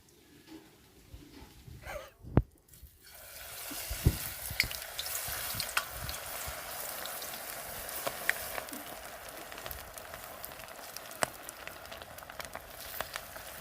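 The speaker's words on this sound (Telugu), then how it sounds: "చికెన్ 65 కోసం ముందుగా ఆయిల్ వేసుకుందాం" Oil sizzling and crackling in a pan while frying Madras-style chicken 65, a steady close frying hiss with scattered pops and clinks, quieter for the first few seconds and then louder and continuous.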